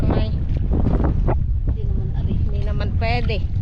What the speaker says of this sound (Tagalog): Malakas po ang hangin.